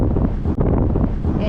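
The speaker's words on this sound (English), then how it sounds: "It is really windy up here." Strong gusty wind buffets the microphone outdoors high up near the Mexico border crossing, a steady loud roar throughout with a brief dip midway.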